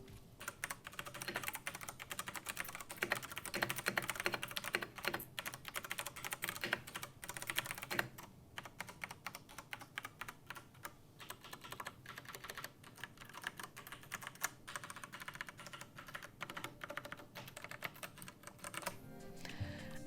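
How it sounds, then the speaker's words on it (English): Steady typing on a Ducky mechanical keyboard with Cherry MX Brown switches, close and clear, a rapid stream of individual key clicks and thocks with brief pauses, no talking. "our particular keyboard, like I said, has Cherry MX brown switches, and let's see how they sound."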